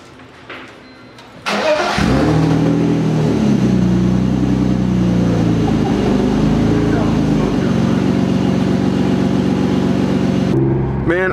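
A BMW E46 fitted with a loud custom exhaust fires up after a brief clatter, then holds a deep, steady, close-up engine drone with a heavy low rumble until it cuts off near the end.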